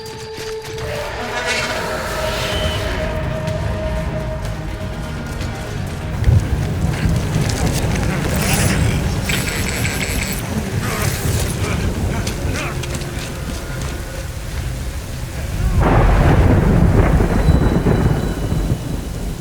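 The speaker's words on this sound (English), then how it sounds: "Good thing it was raining." Heavy rain pours steadily in the video game Death Stranding while deep rolling thunder swells loudly, peaking in a big rumble near the end, with a voice speaking briefly over the storm.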